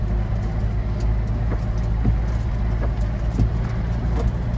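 A Nissan GU Patrol rolls along with its new injector pump, a steady low engine and road rumble filling the sound with a few faint clicks and knocks over it, and no talk.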